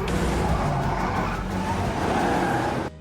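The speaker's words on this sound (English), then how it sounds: "Benny drives the car from there to escape" A getaway car drives off under vampire-hunter attack at dawn, its engine a loud, steady roar with tyre noise across the whole stretch, cutting off abruptly near the end.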